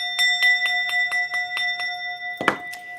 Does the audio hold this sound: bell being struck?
yes